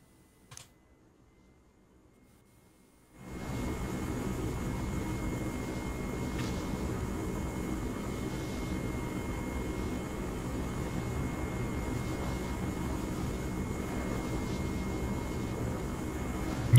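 A transport aircraft in the military game Arma 3 drones steadily after a near-silent start, a loud broadband engine roar rising abruptly and holding constant, with faint clicking beneath it.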